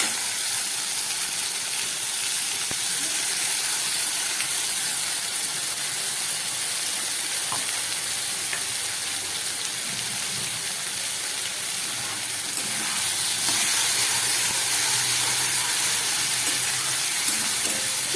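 Ground spice paste sizzling in hot oil in a pan while tangra fish curry cooks, a loud, dense, unbroken hiss close by that swells a little in the later seconds, with no talking.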